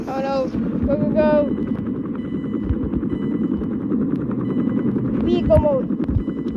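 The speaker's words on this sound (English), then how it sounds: "Apache helicopters here." Apache helicopters in a Transformers video game, a constant loud rotor drone with rapid gunfire bursts and sharp electronic chirps over it, a voice heard underneath.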